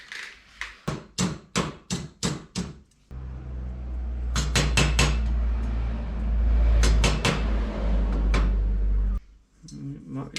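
Quick, bright metallic taps from a hammer on metal trim strike in a rapid run, then a steady hum with another short burst of taps over it.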